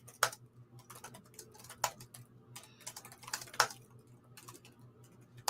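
Faint, sparse, irregular clicks of keyboard typing sit over a steady low electrical hum in a quiet indoor room, with no talking.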